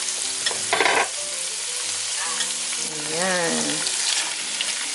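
Shredded frozen chicken breast sautéing in a pan for macaroni soup, a continuous frying sizzle with scraping stirs, close and steady, while someone talks briefly over it.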